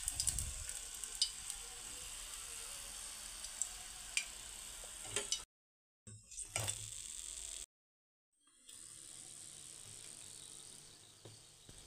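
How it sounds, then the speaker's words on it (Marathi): Moong dal kachoris fry in oil over a low flame, making a steady close sizzle with fine crackling and popping, broken by two short stretches of silence. "यांना आपल्याला एकसारख्या रंगावरती मंद आचेवरती तळून घ्यायचं आहे"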